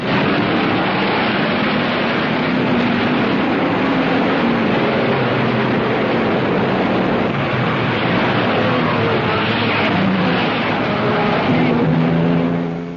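Alfa Romeo P3 racing cars, with Nuvolari driving, get away at the start of the Monza Grand Prix in an early-1930s race. A dense, continuous engine roar and drone rises on a thin, old, band-limited recording.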